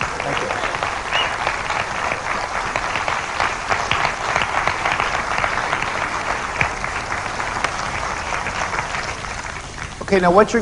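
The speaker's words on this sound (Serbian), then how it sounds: "Još jednom aplauz za dobrovoljce" An audience claps for volunteers at a forum event, a dense, steady round of applause that holds for the whole stretch before a voice cuts in near the end.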